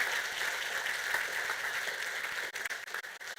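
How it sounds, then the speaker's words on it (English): Audience applause for donors at a charity fundraiser gala: a dense, steady wash of many hands clapping, loud and sustained, then thinning into scattered claps near the end. "Big round of applause for all of our donors"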